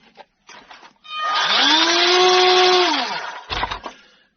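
An electric motor in a 1/12-scale six-wheel-drive RC military truck winds up under throttle, a rising whine that holds loud for a couple of seconds and then drops away, with faint clicks before and after.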